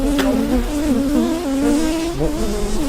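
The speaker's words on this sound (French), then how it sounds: "Ce que vous entendez dans le micro, c'est les abeilles en fait." Honeybees crowd onto a microphone during queen rearing, giving a loud, close, continuous buzzing hum with wavering pitch from many wingbeats, without voices.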